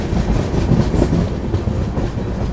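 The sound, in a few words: Pune Amravati express train running near Ankai station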